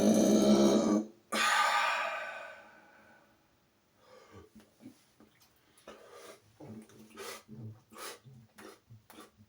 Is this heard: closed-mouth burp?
yes